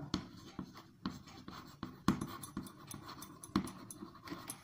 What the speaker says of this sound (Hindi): देयरफॉर इधर से लिखते हैं थोड़ा